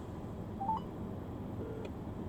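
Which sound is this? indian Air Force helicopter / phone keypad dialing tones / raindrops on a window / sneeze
phone keypad dialing tones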